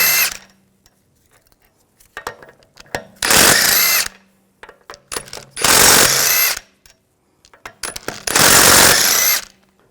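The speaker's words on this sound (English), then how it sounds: "take the lug bolts out" Three long, loud bursts from a power tool spinning 17mm socket lug bolts off the rear wheel of a 2006-2010 BMW 550i, each whirring burst separated by short pauses with faint clicks of socket handling between.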